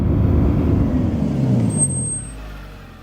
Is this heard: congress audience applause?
no